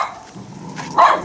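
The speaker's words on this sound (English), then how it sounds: "That's the guard dog." A guard dog gives a single sharp bark near the end after a brief low rumble, fairly close and loud, with no talking.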